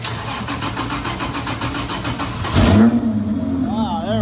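The Razzle Dazzle car's engine cranks in a rapid rhythmic starter churn, fed by an Optima battery through jumper cables, then catches with a loud burst and settles into a rough idle, with a voice briefly heard.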